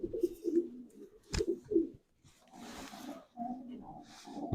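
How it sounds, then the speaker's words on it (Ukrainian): A pigeon coos softly at a pigeon show, a few low rolling calls near the microphone, mixed with quiet handling noise and faint background voices. "Я вибираю цю голубку, ця голубка буде на аукціоні."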